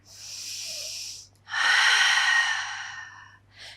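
Deep, audible breaths during a Pilates session on the mat: a long airy exhale, a brief pause, then a longer, fuller breath and a short final puff, close and alone.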